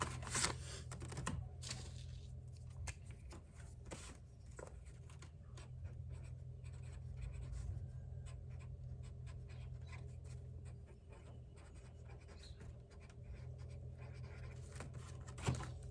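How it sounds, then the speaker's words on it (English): A pen writing a date and seed brand on a small plant tag, faint scratchy strokes and light taps in quick irregular bursts over a steady low background hum. "on the back, I'll write the date and the brand of the seeds"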